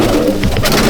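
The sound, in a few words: pigeons cooing in a loft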